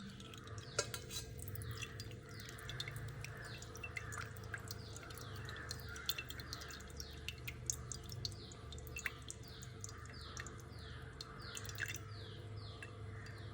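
Ground rice batter strained through a sieve drips quietly, with soft, irregular patters of falling liquid close by over a low background hum and faint birdsong.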